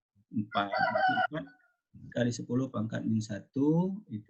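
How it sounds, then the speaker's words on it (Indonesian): A rooster crows somewhere in the background while a person speaks steadily over it. "Tadi ada ayam bunyi, yang siapa itu?"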